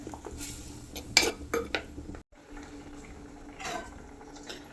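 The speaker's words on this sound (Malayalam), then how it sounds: "തക്കാളി ഇതൊന്ന് ഇളക്കി ഇടട്ടെ" Spoon stirring tomato into sardine curry in a pot, with metal clinks and scrapes against the pot, a few sharp knocks, quiet bubbling beneath and a short silent gap midway.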